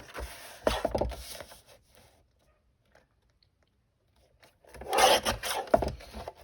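A Manila folder spine is trimmed for a handmade journal in two bursts of scraping, rasping paper cutting, the first short, then a silent gap, then a louder, closer stretch near the end.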